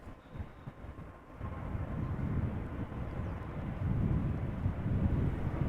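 A passenger airliner arriving on the center runway at Amsterdam Schiphol in crosswind conditions gives a steady, broad low roar that swells toward the end, with wind rumble on the microphone.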